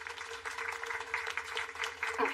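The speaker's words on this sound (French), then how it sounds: "On peut l'applaudir pour lui souhaiter la bienvenue." A small group at a meeting claps steadily to welcome a new member, with a soft continuous patter over a low hum.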